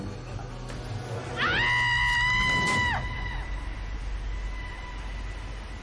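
A recorded human scream from Iceland's Let It Out campaign: one loud, sustained, wavering cry of about a second and a half, rising out of a low background hum and then cutting off.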